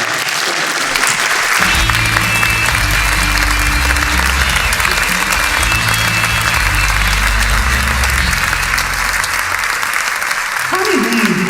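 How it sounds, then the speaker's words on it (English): Loud, continuous applause from the crowd at a rock hall of fame awards ceremony, sustained throughout, with music and voices underneath and a voice near the end. "And a round of applause for them."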